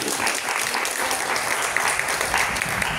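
Congregation applauding at a church sermon, a dense, steady wash of clapping from a room full of worshippers, sustained and fairly loud throughout.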